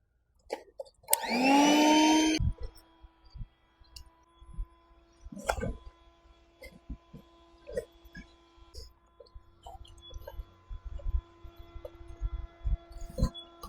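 An electric pump inflates inflatable couches during a glamping tent setup, a loud steady whirring drone lasting about a second and a half, then cutting off, followed by quieter clicks and handling noises.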